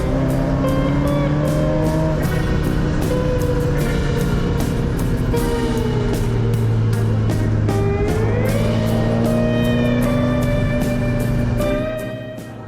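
A Ferrari 348 TB drives along a road with a loud, steady engine drone heard from close by. The pitch rises and falls as the car speeds up and shifts, then the sound fades at the end.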